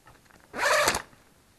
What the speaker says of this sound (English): It's got that zip system where you can get two zips.